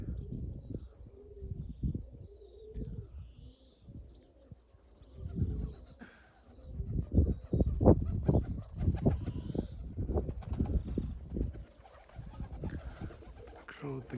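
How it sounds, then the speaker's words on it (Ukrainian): Street pigeons in Budapest coo in repeated low throaty bursts close by, with soft wing flaps and rustling between calls, the cooing growing denser and louder midway before easing off. "такі от голуби"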